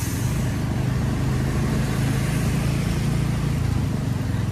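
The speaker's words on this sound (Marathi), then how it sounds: "हे आपले अण्णा शेठ तिकडे गाडी चालवत असताना" A car drives along a rain-soaked road near Bhandardara in Akole during the monsoon, its engine and tyres making a steady, close rumble with a wash of road hiss and no voices.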